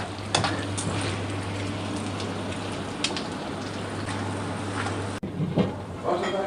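Food frying steadily in a pan with a continuous sizzle and stirring scrapes, prepared for Afghan kabuli pulao; a steady hum runs underneath until a short break near the end.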